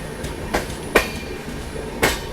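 A passenger train rolling out of Kishanganj station, with a low steady rumble and a few sharp clacking wheel hits spaced irregularly, heard close from inside.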